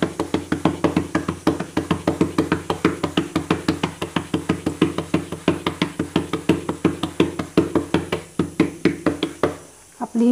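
Hands patting jowar (sorghum) dough flat into a bhakri, a fast, even run of close, sharp slaps that repeats dozens of times, then stops near the end.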